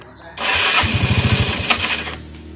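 A Yamaha Fino scooter engine cranks with a quick burst of starter pulses, catches, and settles into a loud, close idle that fades at the end.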